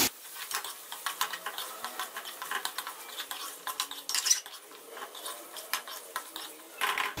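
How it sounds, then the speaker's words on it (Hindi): A utensil stirs carrots, potatoes and peas in a pan, giving quick, close, irregular clinks and scrapes against the metal over a faint background crackle, with no voices. "अब मैं इनको भी अच्छे से भून लूंगी।"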